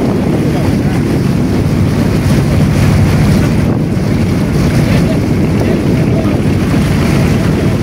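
Two trawler boats running side by side on the Andharmanik river under strong sun, their engines a loud steady drone mixed with rushing water and heavy wind buffeting the microphone.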